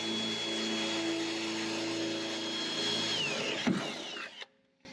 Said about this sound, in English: I'm going to drill one more hole in here.